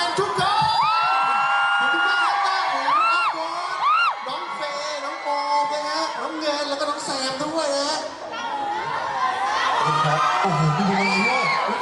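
A loud crowd at an outdoor stage performance in Thailand screams and cheers continuously, with high-pitched shrieks and whoops rising over a constant roar of voices.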